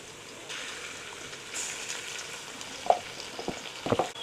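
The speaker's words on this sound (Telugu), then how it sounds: "ఉల్లిగడ్డలు మరీ బ్రౌన్ కాకుండా ఇట్లా వచ్చేటట్టు చేసుకోండి" Onions frying in a pan for chicken pulao: a faint, soft sizzle that grows slightly louder, ending with a few clattering knocks of a spoon against the pan.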